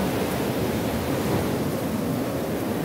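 Ocean waves wash continuously up a sandy shore at Big Bay beach, a steady broad roar of surf with some wind noise on the microphone and no talking.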